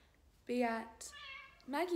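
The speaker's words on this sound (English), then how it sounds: "That's my cat." A pet cat meows in a couple of short, rising, drawn-out cries close by, mixed in with someone talking indoors.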